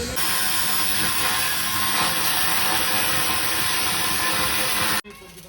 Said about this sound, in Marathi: हे ते बघा वेल्डिंग करते ते सगळे जोडत आहे पाईप घराच्या कामामध्ये.